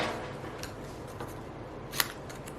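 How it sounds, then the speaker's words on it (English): A paper trimmer slices through a small card sentiment, making a faint soft swipe and one sharp click near the end, with quiet rustling around it. "We're gonna stick it right here in our trimmer and just trim it down"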